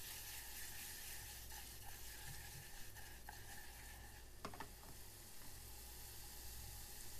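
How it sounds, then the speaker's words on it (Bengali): Meatballs frying in a little olive oil in a pan give a steady, soft sizzle throughout, with a few faint clinks and stirring scrapes partway through. "এখন আমি একটা পাত্রে অল্প অলিভ অয়েল দিয়ে মিটবলগুলা ভেজে নেব"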